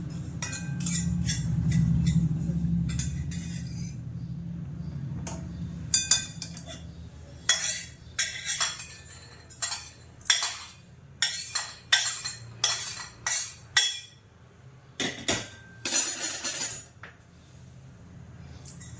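Fennel seeds lightly dry-roasted in a pan, first a soft rushing scrape, then a long series of quick metallic clinks and taps from a spoon against the pan, close and fairly loud.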